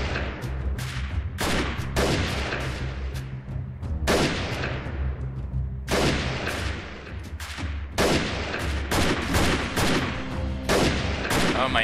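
Repeated bursts of gunfire in the video game Freeman Guerrilla Warfare, with loud sharp shots and rapid volleys cracking every second or so across the whole stretch, close and dense, with no talking.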